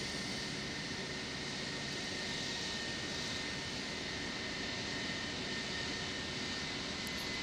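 ToLiss A320 jet engines with IAE powerplants roar on takeoff from Phoenix in the X-Plane 12 flight simulator, a loud steady broadband rush with a high whine held throughout and no talk.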